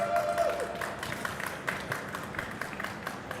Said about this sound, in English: Round of applause there for Javi from Williams.